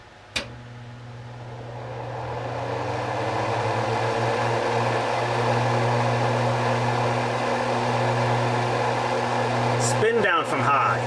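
A Broan 30-inch under-cabinet range hood fan starts up on high over a stove: a click, then a steady motor hum and airflow rush that swell within about two seconds and hold loud and even, ending in a faint clatter.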